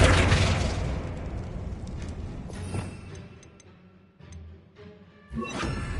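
Flipendo spell cast in Hogwarts Legacy: a loud whooshing burst at the start that fades, followed by scattered thuds, clatters and a sharp pop near the end, with no talking.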